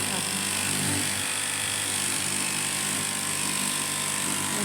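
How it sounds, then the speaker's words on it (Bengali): A large cutting machine slicing material into four pieces gives a loud, steady mechanical roar with a harsh grinding texture, constant throughout. "দেখো এটা তো মেশিন দিয়ে দেখো মালটা কীভাবে কাটছে"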